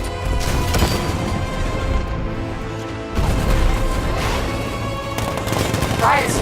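Heavy cannon fire from an unmanned tank in the Batman Arkham Knight video game, a dense barrage of loud booming shots and blasts running through the whole stretch, with a brief drop near the middle before the firing resumes.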